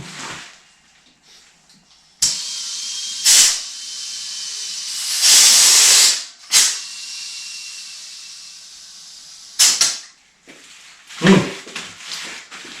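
Compressed air fills a 32.5-inch Highlifter Outlaw 2 tire on a KMC XD Machete XD228 beadlock wheel to seat the bead, coming as a series of loud, close hissing bursts of varying length separated by near-silent gaps.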